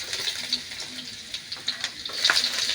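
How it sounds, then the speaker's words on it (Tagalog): Garlic dropped into hot cooking oil for a Filipino kamaro dish, giving a steady close sizzle with crackling pops and small stirring knocks throughout, moderately loud. "Mainit na ang ating mantika. Ilagay na natin itong bawang"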